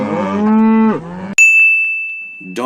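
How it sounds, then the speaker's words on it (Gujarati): A cow moos once, a long loud low call that falls off at the end, followed by a sustained bright chime tone and the start of another sound. "કાઉ. કાઉ મીન્સ ગાય."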